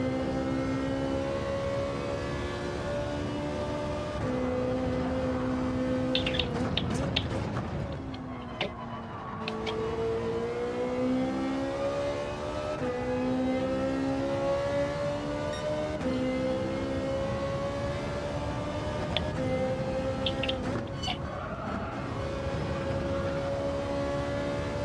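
Ferrari race car engine in Gran Turismo 7 holding a steady, droning harmonic whine that rises and falls slightly with gear changes, continuous and moderately loud throughout with brief dips around shifts.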